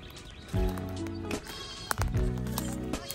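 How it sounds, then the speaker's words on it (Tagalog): Goats on a Philippine farm bleat loudly and close by, two long wavering calls separated by a short pause, over light background farm noise. "Napakaganda na ng mga kambing ni Sir dito."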